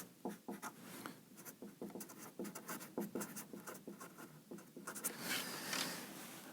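Chalk or marker scratches and taps on a lecture board as a big box is drawn, quick close strokes in uneven bursts, no talk over them.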